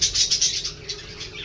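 Pet lovebirds give a rapid series of close, shrill chirps and squawks, strongest at first and then trailing off softer, over a low background hum.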